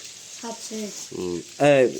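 A faint, steady sizzle of pangas fish frying in oil runs beneath a few short bursts of nearby talking.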